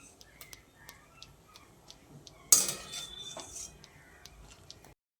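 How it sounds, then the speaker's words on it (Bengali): Steamed bitter gourd is lifted from a pan and set on a plate. Light utensil clicks and taps are scattered throughout, with a louder metallic scrape and clatter midway, all fairly faint and close. "এবার এই করলা বা উচ্ছেটাকে আমি ছেঁকে তুলে নিচ্ছি। তুলে একটা প্লেটের মধ্যে রেখে দিচ্ছি।"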